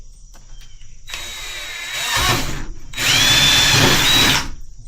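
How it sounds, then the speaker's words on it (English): Power drill boring two holes in plastic: two bursts of whining motor, each rising in load as the bit bites, separated by a short pause, close and loud. "And so now I can drill both those holes."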